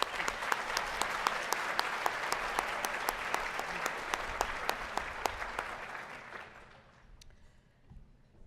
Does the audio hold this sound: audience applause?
yes